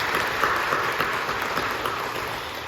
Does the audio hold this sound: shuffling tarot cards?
no